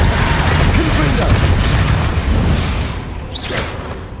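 A Confringo blasting spell cast in Hogwarts Legacy, a loud booming burst with a whooshing swell that fades, followed by a brief swishing flare over dense game background.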